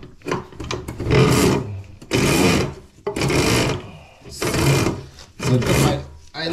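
A drain-cleaning spiral machine feeds its cable into a washing-machine drain pipe, giving loud, close, rasping bursts that start and stop about once a second.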